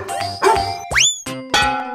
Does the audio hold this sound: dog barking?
yes